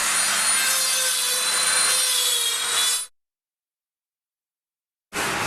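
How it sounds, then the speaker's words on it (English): Jagged wire-mesh ends of a sculpture are trimmed and ground off: a loud, steady, harsh grinding for about three seconds, abrupt silence, then the grinding starts again. "the jagged ends have to be trimmed and ground off to leave the sculpture with a smooth final edge"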